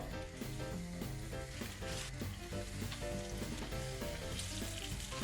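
A chicken escalope dredged in flour fries in olive oil in a pan, a constant crackling sizzle heard close up for about five seconds, with no talking.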